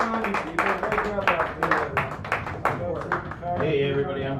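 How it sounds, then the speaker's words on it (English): A small café audience at a San Francisco poetry reading applauds a poet, with steady overlapping clapping through the whole stretch, close and fairly loud, mixed with some voices. "give him a round of applause, people"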